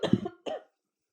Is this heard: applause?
no